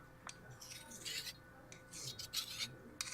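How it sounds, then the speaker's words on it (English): A hand file rasps across a machete blade in short, uneven strokes, close and fairly quiet, with a few metallic scrapes and no talking. "I will not sharpen any of your blades with a file like that"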